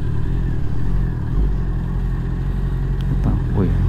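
A small motorcycle engine idles and putters nearby with a steady low drone, and a brief voice is heard near the end.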